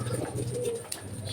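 A pigeon coos softly and repeatedly nearby, low and throaty over a faint background hum, with no voices.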